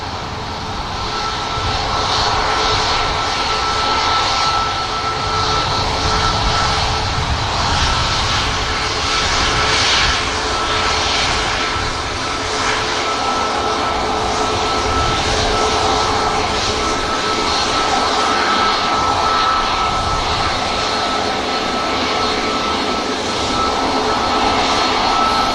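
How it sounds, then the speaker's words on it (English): A Ryanair Boeing 737 Max 8200 lines up on a Manchester Airport runway before departing for Rome, its jet engines giving a steady, loud, continuous roar that holds evenly throughout with no talk. "Nice Max lining up in front of us, with the Ryanair behind, heading out to Rome"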